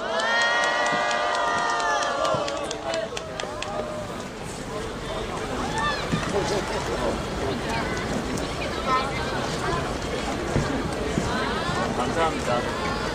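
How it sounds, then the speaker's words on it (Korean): A crowd at a 2012 outdoor street memorial for homeless people who died breaks into cheering and shouting to welcome a speaker. A voice is heard briefly at the start, then a sustained mass of cheers and clapping carries on, fairly distant. "힘찬 박수로 모시도록 하겠습니다"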